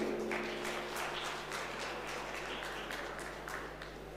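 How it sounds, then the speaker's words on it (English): Steady applause fills a virtual national convention of the All India Federation of Tax Practitioners, a dense, even wash of clapping that holds at moderate level throughout with no voices over it. "Ladies and gentlemen, please give him a huge round of applause."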